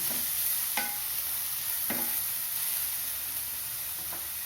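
Chopped onions sauté in a pan for an egg gravy with coconut milk. A steady close sizzle runs throughout, broken by a few sharp spatula scrapes against the pan.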